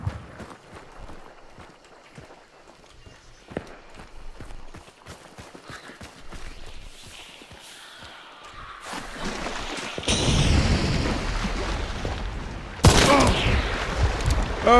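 Gunfire during a Hunt: Showdown match, starting as scattered faint cracks and building into louder, denser volleys near the end, with a sharp burst late on.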